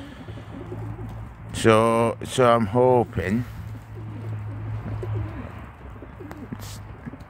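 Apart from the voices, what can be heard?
pigeon cooing in the loft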